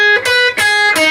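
Three slow, distorted electric guitar notes picked one after another, each ringing clearly before the next, with no voices.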